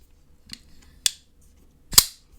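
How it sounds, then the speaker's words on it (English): A Rike District 9 pocketknife with an S90V blade flips open in three sharp metallic clicks, quiet then louder, ending in a crisp snap. "The sound it makes, it's like this."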